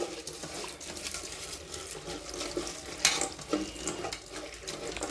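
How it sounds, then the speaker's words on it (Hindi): Flattened rice (poha) is rinsed in a bowl with small splashes of water, soft swishing and stirring sounds close by and quiet, with no talking. "इस पोहे को इसमें थोड़ा थोड़ा पानी डालकर इसको धो लेंगे।"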